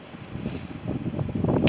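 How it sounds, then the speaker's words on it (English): Wind gusting on a bright, sunny spring day, a steady broadband rush that builds louder toward the end, with low buffeting rumble on the microphone and no one speaking. "excuse the wind, it's spring here"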